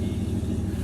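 A Dodge truck engine with a big muffler, a deep, throaty, pulsing rumble idling close by and steady throughout.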